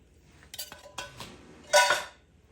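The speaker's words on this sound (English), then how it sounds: "Now I'm adding my pineapple chunks" Fruit chunks are tipped into a large mixing bowl for ambrosia salad, giving a few soft clinks and taps followed by one louder clattering burst of pieces hitting the bowl, close by with no talking.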